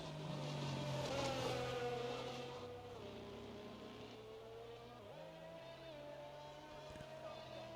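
Engine drone from a safety car leading the field through the Lesmo corners at Monza in a PC racing game, a steady mid-level hum with shifting pitch as it changes gear.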